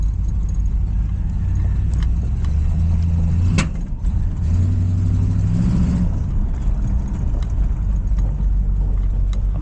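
A 1969 Ford Fairlane drives along, its engine a steady low rumble near and constant throughout, with a brief clunk partway through.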